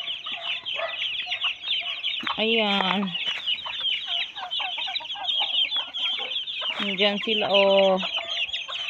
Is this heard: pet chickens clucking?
yes